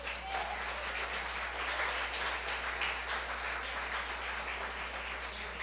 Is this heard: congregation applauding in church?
yes